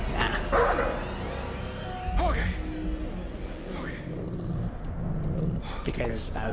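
A dog in the video game Until Dawn barks, yips and whimpers in short bursts over several seconds, close and fairly loud, mixed with game ambience and someone speaking over it.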